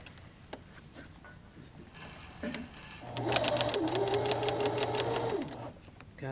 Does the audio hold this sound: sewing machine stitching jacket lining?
yes